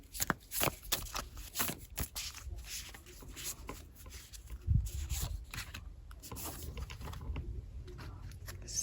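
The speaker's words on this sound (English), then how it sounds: "I am not very good at shuffling cards" Tarot cards being shuffled by hand, a run of soft riffling and rubbing bursts with papery slaps, close and fairly quiet, continuing throughout without talk.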